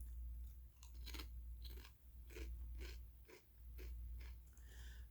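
Someone eats a flat, ridgeless Lay's spicy crayfish potato chip, giving a close, quiet run of crisp crunchy chewing bites at a steady rhythm with no talk.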